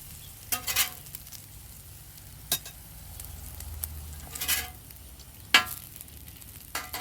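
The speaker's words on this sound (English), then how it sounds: "One thing I have noticed, this Blackstone, it makes some very beautiful bacon." Bacon sizzles steadily on a Blackstone flat-top griddle, with a few sharp scrapes and clinks of a spatula turning strips, no one speaking.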